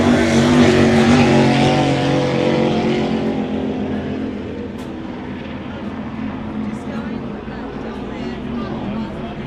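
Outboard B class power boats race on a river at the Bundaberg Rum City Classic, their engines roaring loudly and close at first, then fading steadily as they pull away.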